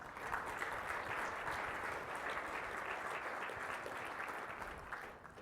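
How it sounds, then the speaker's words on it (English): Conference audience applauding speakers, a steady wash of clapping from many hands at moderate distance, holding level before fading at the end. "Can we please give a big round of applause to all of our speakers today?"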